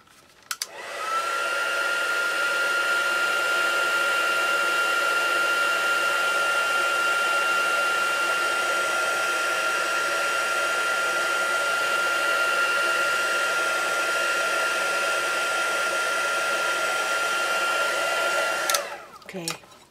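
A hair dryer blows steadily at close range over modeling paste on a painted textured surface, a loud continuous whoosh with a faint whine, running for most of the stretch before clicking off near the end.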